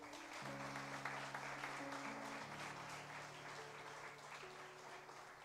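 A church congregation applauds steadily at a distance, faint clapping beneath sustained keyboard chords that shift in pitch.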